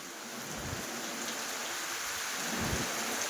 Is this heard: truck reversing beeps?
no